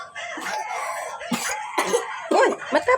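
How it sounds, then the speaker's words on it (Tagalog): A baby coughs indoors in a few short, close bursts, separated by brief pauses with quiet background noise. "Naubo man siya, guys."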